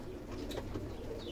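A marathon racing pigeon in a breeder's loft gives soft, low cooing, faint and close, with a few brief higher chirps over a steady background murmur.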